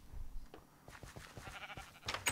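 Sheep in the Minecraft video game bleating in a short burst of several quick, wavering calls, faint and low in level.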